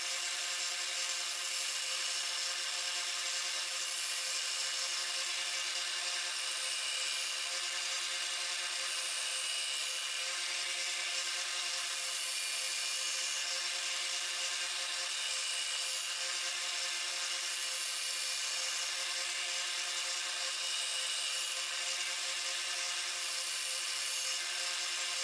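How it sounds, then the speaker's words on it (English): A belt grinder running a 600 grit belt sharpens a knife blade, producing a steady, faint, high-pitched whirring hiss that holds unchanged for the whole stretch with no voices. "let's go ahead and get this on this 600 grit belt"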